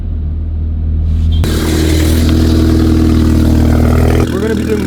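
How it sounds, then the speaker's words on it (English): BMW 330e with an Alibaba valved exhaust backbox on a cold start: engine catches with a sudden loud burst, then settles into a steady deep rumbling idle before dropping back near the end. "Let's get ready to do the cold start."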